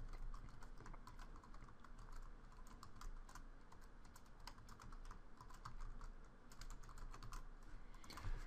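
Steady typing on a computer keyboard, a continuous run of light, quick key clicks at an even pace, close and fairly quiet with no talking.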